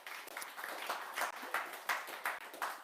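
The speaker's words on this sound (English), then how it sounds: "let's give him a round of applause and have a listen" A small audience at a tech talk on Firebase claps for a speaker, a short, thin round of scattered individual claps with distinct hand strikes.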